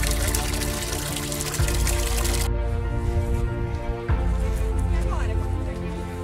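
Natural water runs steadily along a mountain trail on Pico Paraná, a continuous close trickle and splash that holds throughout, with brief speech in the background.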